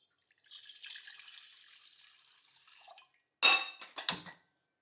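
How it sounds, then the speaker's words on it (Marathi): Water is poured into a metal pot on a kitchen stove for spinach paratha, a steady thin stream lasting a few seconds, followed by two sharp clanks of the pot being handled, with no talk. "यामध्ये पाणी टाकून घेऊया."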